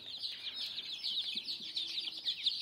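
Newly hatched chicks, three or four days old, peep under an infrared lamp near feed and water, a dense chorus of high, rapid chirps that runs continuously and moderately close with no talking.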